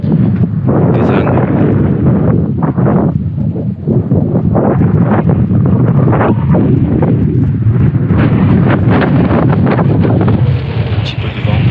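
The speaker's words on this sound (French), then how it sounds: "Un petit peu de vent." Strong wind blowing across the Sahara desert among rocks, stones and black sand on a hot day, buffeting the microphone with a loud, continuous roar and gusty surges for the whole stretch.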